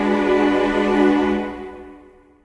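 A revoiced half-diminished seventh chord from Debussy's Nuages, with the third moved up an octave, rings out as one sustained, rich chord that fades away over its last second. No voices are heard.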